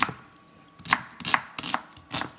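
A knife chops raw onion on a board, giving about six crisp, close, irregularly spaced thuds with quiet pauses between them.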